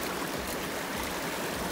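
Water pours and trickles onto sandy material in a rock crevice, a steady, close rushing splash that holds at an even level throughout.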